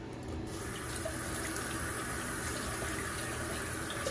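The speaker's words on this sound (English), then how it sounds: "I'm going to wash my hands really fast." A bathroom sink tap running steadily while hands are washed under it: a close, constant gushing splash of water with small shifts in the flow.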